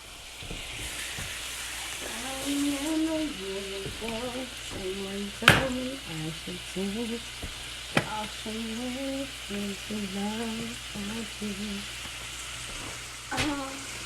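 Shrimp and other ingredients for a strawberry and shrimp salad crackling in a pan of oil and butter, a soft steady sizzle with a few sharp pops and clicks, while people talk over it.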